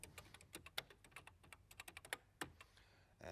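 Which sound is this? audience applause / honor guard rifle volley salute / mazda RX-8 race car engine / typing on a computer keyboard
typing on a computer keyboard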